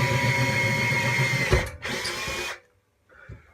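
A power drill bores into a brewing boiler for a heating element, stepped up toward a 10 mm bit with oil: a loud steady whine and grind, a brief pause, another burst, then stopping with faint scraping.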